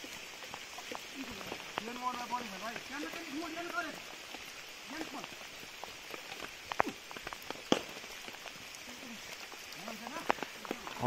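Steady heavy monsoon rain patters densely in a forest with occasional sharper drops, while someone talks over it.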